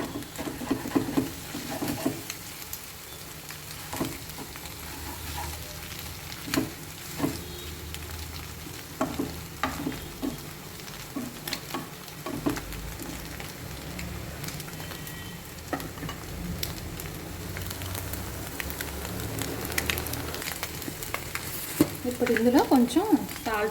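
Egg frying and cooking in a pan for egg fried rice, a steady sizzle with scattered stirring scrapes and taps throughout, close and moderately loud, with no talking.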